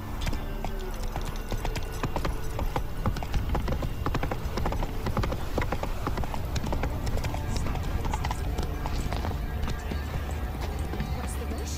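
Hooves of the horse Roach clip-clop in a steady trot in The Witcher 3, a continuous rhythmic beat of footfalls close by, with game voices talking over parts of it.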